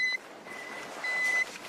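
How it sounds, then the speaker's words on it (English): Analog avalanche beacon beeping for a buried victim: two steady, high electronic tones, one brief at the start and a longer one about a second later, with faint hiss between. "They rely on an audible beep that generally gets louder the closer you get to a victim."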